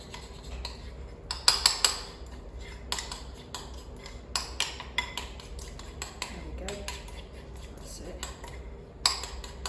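Garlic being mixed into soft butter with a utensil, giving irregular clinks and scrapes against a bowl at close range, several sharper knocks among them, with occasional talk in the background.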